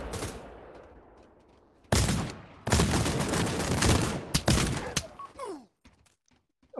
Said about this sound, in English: two shots with the shotgun